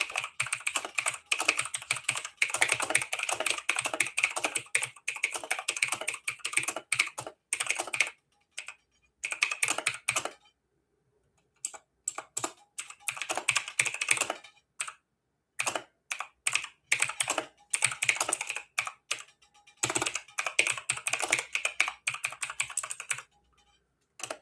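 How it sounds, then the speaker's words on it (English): Bursts of rapid clicking come from a computer keyboard as someone types up close, with short pauses between flurries and a longer gap midway before the keystrokes resume. "I'm not a fan of typing."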